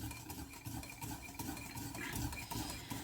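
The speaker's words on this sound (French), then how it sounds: "Alors là, on mélange." A batter mixture being stirred in a bowl, quiet repeated utensil scrapes and soft clinks in a steady rhythm, close by with no talk.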